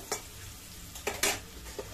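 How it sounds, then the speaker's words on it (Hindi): Potatoes frying in a pan for aloo posto, a soft continuous sizzle broken by a few short scraping stirs of a utensil against the pan, close and fairly quiet. "ऐसे भूंजते भूंजते ना ये आलू मतलब मानो कि उबाल ही जाएगा"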